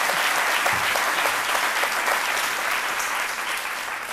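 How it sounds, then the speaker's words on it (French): A studio audience applauds a retiree honored on a daytime TV show, a dense, loud burst of clapping that holds steady and fades slightly at the end. "On s'applaudit."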